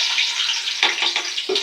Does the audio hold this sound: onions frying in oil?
yes